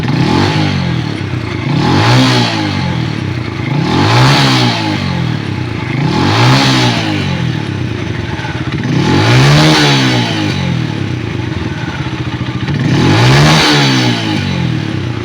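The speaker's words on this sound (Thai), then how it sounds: "เดี๋ยวทำการเร่งเครื่องดูนะครับ" A Chinese car's engine revs repeatedly during a charging-voltage check, rising and falling in a regular rhythm of about six bursts, loud and close with a mechanical clatter underneath.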